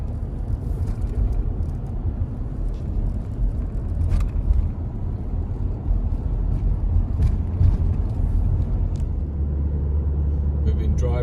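A car drives along a rural road in Enshi County, Hubei Province, China, its steady low engine and road rumble heard from inside the vehicle, with faint voices underneath.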